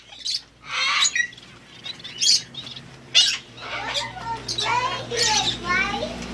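Parrot and toucan give a series of loud, close squawks and chirps in separate bursts, with people talking nearby between the calls.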